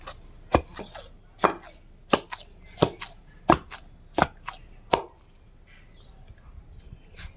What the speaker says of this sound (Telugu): ఇలా మొత్తం వేసుకోవాలి వేసుకొని దంచుకోవాలి